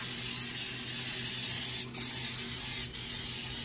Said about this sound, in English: spray my pan with my Baker's Joy